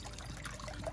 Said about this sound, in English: So once you have your mesh in there, you're going to add water.